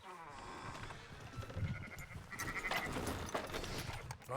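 Sheep in the video game Red Dead Redemption 2 bleat several times in quick succession near the listener over a busy ambient background.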